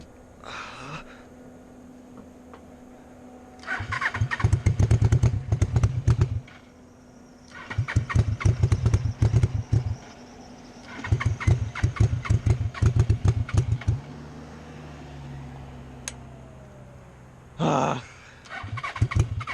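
A dune buggy engine being coaxed to start after a valve shim repair cranks in repeated loud, close bursts of rapid firing, each catching briefly before dying away, with quiet gaps between attempts.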